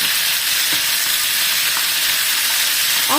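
Loud, steady frying sizzle of food cooking in its own oil, a dense close crackle that never lets up for the whole stretch.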